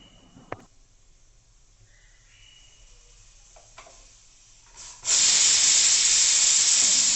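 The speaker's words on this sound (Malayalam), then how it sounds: "കുക്കർ അടച്ച് ഒരു വിസിൽ വരുന്നവരെ വേവിക്കുക" A pressure cooker vents steam while cooking chicken: a quiet kitchen with a few faint clicks, then about two seconds from the end a sudden loud, steady hiss of escaping steam bursts in and continues to the end.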